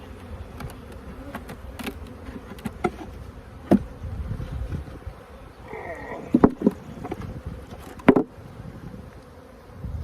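Honeybees buzz steadily around an open hive during the first inspection of the season, a low continuous drone outdoors broken by a few sharp knocks and clunks of hive equipment being handled.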